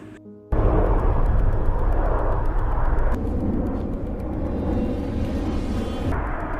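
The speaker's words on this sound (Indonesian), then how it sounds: "Dan tiba-tiba ada sebuah pesawat." A plane in a film roars overhead, a loud sustained rumbling drone that swells in after a brief quiet start and holds steady throughout, with no voices.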